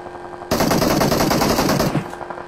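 Sustained rapid automatic gunfire in a video game, a loud dense burst lasting about a second and a half before it cuts off, with no talk over it.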